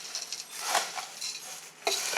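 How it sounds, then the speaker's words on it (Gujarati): Dry, crunchy rice and flattened rice snack mix being stirred and tossed in a bowl, in uneven rustling scrapes with a louder burst near the end. "હવે આ બધી જ વસ્તુને આપણે આવી રીતે મિક્સ કરી દઈશું"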